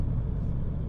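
Low steady rumble of a Jaguar X-Type diesel estate car on the move, heard from inside as a constant engine and road drone, fairly loud, with no talking.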